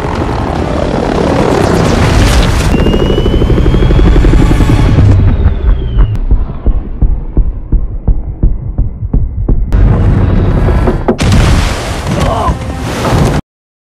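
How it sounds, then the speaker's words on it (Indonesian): A loud, throbbing helicopter drones close by, its rotor pulsing steadily, with sharp bursts of noise cutting in near the end. "Sally mengendalikan helikopter melalui celah sempit di antara tebing untuk menghindari kejaran"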